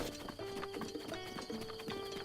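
Rhythmic clip-clop of horse hooves in The Legend of Zelda: Breath of the Wild, trotting steadily over a faint tonal background.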